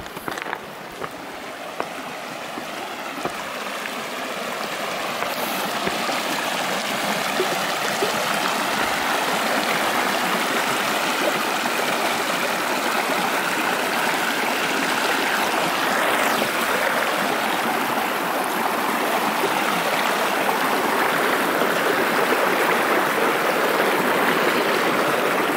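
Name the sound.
river flowing at a hiking trail crossing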